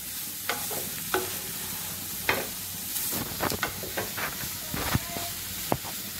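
Vegetables for veg fried rice sizzle in a hot pan while a utensil stirs and scrapes with frequent sharp clinks and scrapes over the steady frying hiss.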